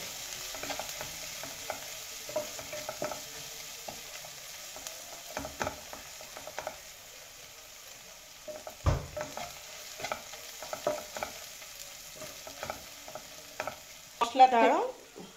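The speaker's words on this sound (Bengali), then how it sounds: "মশলাটাকে এখন একটু ভাজা ভাজা করে নেব" A quiet, low sizzle of spices, including Kashmiri chili powder, frying in a pan under repeated scraping strokes of a spoon, with a brief louder clatter near the end.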